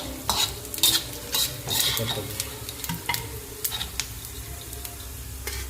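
Onions fry in a pan with whole spices such as coriander, cinnamon, cardamom, cloves, fennel and cumin, a steady sizzle broken by repeated scraping of a spoon stirring against the pan.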